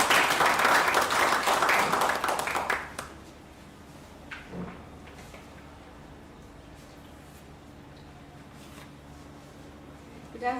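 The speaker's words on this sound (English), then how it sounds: "With another round of applause," Applause from the audience at an indie book prize award ceremony, a dense burst of clapping for about three seconds that then drops away to a quiet room with a few faint knocks and shuffles.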